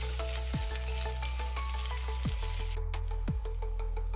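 Crushed ginger and garlic sauté in a hot pan, a steady bright sizzle with a few stirring scrapes, over a low constant hum and without talk.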